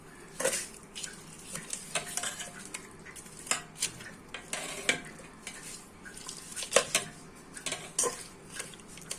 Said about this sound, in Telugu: ఇవన్నీ వేసి చక్కగా కలుపుకోవాలి.